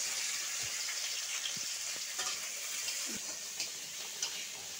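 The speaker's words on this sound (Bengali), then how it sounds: "তার জন্য আগে চিংড়ি মাছগুলো ভেজে নিচ্ছি" Prawns frying in a pan give off a faint, steady sizzling hiss with a few small ticks and pops, heard alone at low volume.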